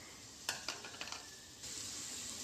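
Sliced onions and green chillies dropped into a little hot oil for a tomato and okra curry, a few clattering drops followed by a rising steady sizzle, close and fairly quiet, no voices.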